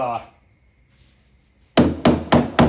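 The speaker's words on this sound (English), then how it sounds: "Just gonna peel off the top veneer where it's loose" Loose veneer being pried and peeled off the wooden cabinet of a Robotron arcade machine under restoration: four sharp, loud cracking snaps in quick succession near the end, after a brief voice and a quiet pause.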